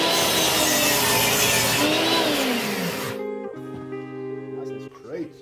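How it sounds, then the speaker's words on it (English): A mitre saw cuts through a 4x4 piece of wood in a workshop: a loud, dense whine and rasp for about three seconds, then the blade spins down with a fading hum. "this mitre saw can do a 4x4 cut"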